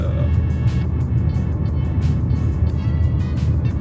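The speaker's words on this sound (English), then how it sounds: "there's a bit of noise coming inside the car from the suspension" Inside a 2011 Ford Focus on the move, a loud, steady low road rumble fills the cabin, with suspension noise and small knocks over a rough surface, and no speech.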